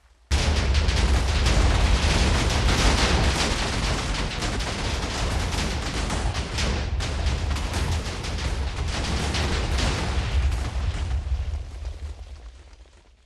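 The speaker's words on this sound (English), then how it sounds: "the explosion was huge" A massive explosion in Minecraft levels the Black Temple. It comes as a loud, sustained roaring blast full of crackling debris, rumbling on for about twelve seconds before fading out, with no voices over it.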